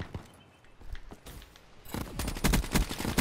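Gunfire in a shooter video game: a few scattered shots, then a dense, loud volley of rapid bursts that fills the second half.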